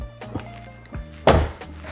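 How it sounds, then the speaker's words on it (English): A single solid thunk of a Dodge Durango Hellcat door shutting, sharp and close, preceded by a couple of softer handling knocks. "open the door up again, test it up"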